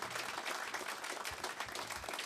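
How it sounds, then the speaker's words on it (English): A small group in a radio studio gives a light round of applause, soft scattered clapping, faint and close, with no voices over it. "A little round of applause for that"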